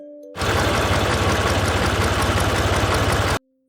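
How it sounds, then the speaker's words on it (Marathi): A tractor engine chugs loudly with a steady low throb, starting abruptly and cutting off after about three seconds. "ट्रॅक्टरचा आवाज कसा काढतो?"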